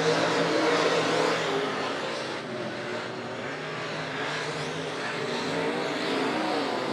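Race cars circle a dirt-track speedway during a heat race at Monett Motor Speedway, a steady broad engine roar from several cars running together, slightly fading mid-way then building again, with no talk over it.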